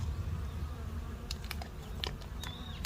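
Honeybees buzzing around a hive, a low steady hum close by, with a few faint ticks and one brief higher whine from a passing bee.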